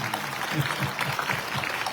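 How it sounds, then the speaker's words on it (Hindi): Audience applause at a Saket Mahayagya religious gathering, steady dense clapping from a crowd, with a low hum and rhythmic thumps underneath, continuous for the full stretch. "इनके लिए जोरदार तालियां हो जाएंगी।"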